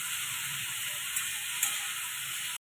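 Gima greens, washed and added to fried potato with salt and turmeric, sizzle steadily in a pan, a constant close hiss with a couple of faint stirring clicks before it stops abruptly.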